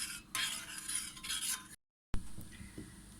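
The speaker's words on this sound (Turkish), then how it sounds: "Tamamıyla eridiğinden emin olana kadar karıştırıyorum" A melting brownie mixture stirred in a pot, soft scraping strokes close by with a brief silent gap midway, quiet and without talk.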